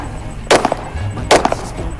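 Two sharp, loud reports from a Glock 17 pistol, about 0.8 seconds apart, fired outdoors at a range. Each crack stands alone with a short tail, and no one speaks.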